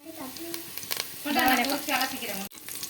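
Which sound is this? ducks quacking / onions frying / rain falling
onions frying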